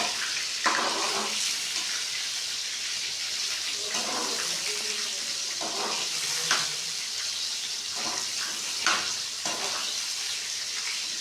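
Soya chunks (nutri) slowly frying in a pan for a vegetable curry, giving a steady soft sizzle with intermittent scraping stir strokes at a moderate, close level, no talking.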